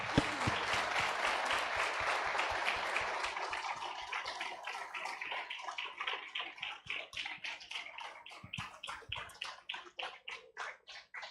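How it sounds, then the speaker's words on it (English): An audience at a hackathon awards ceremony gives a round of applause, loud and dense at first and then thinning into scattered individual claps as it dies away. "they deserve a huge round of applause"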